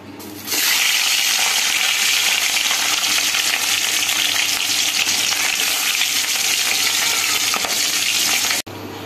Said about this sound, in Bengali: তেল গরম হয়ে গেছে, এবার এগুলোকে ভেজে নিন।